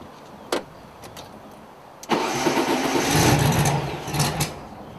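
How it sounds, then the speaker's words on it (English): A car engine cranks and fires up for the first time on a road trip from London to Budapest. A couple of faint clunks come first, then the engine catches and settles into a steady idle with a brief rev. It is close and there is no speech. "he's going to fire it up the first time to see if we've got an over-accelerating"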